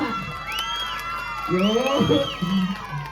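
A village crowd at a Dandineshwari festival in Ganiga cheers and whoops in loud bursts, voices rising together partway through, with shouts and chatter mixed in.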